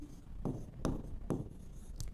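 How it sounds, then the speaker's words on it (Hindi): Chalk or marker writing on a board in a physics lecture, with a few distinct short strokes and taps spaced out over a quiet room, close and without talk. "मैं एक बार फिर लिखता हूं।"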